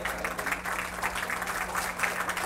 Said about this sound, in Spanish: a quien brindamos fuertes aplausos también